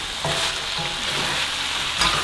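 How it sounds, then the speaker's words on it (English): Green beans are stirred in a hot frying pan for a chicken stir fry, giving a loud continuous sizzle with soft scraping and tossing sounds close up. "And now we're going to give them the good mix."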